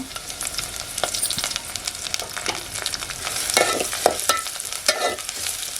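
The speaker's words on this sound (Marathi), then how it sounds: "लसूण ब्राऊन झाले आता कांदा घालूया आणि कढीपत्ता पण घालते" Onion and curry leaves fry with browned garlic in hot oil, a steady close sizzle broken by sharp crackles and spatters that swell toward the end; no voices.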